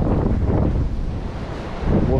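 Strong wind on a north shore salmon fishing spot buffets the microphone in heavy, rumbling gusts that swell and dip, with surf faintly underneath.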